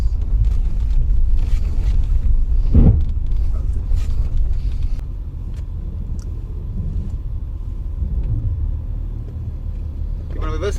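A Mercedes E220d diesel car reversing, its low engine rumble steady and close inside the cabin, with someone talking over it.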